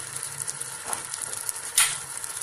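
Three tomatoes frying with garlic and onion in hot oil in a pan for fish kofta curry, giving a steady soft sizzle with a brief louder crackle near the end, close by with no talk.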